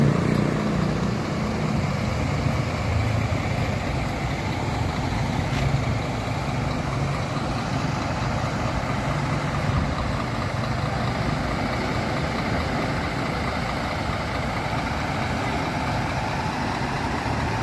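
Several buses idle in a line at Payahilang bus terminal in Pakemon, Central Aceh, a steady low diesel rumble that holds at an even level throughout, without any talk over it.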